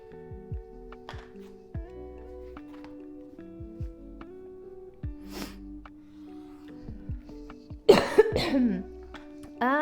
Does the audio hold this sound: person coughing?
yes